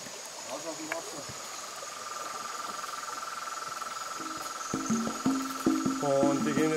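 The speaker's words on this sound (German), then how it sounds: "Und das Coole ist, dass hier jetzt überall Kröten sind, die rufen." Toads calling along a rainforest stream at night in Costa Rica, repeated croaking calls building toward the end over a constant chorus of insects and flowing water.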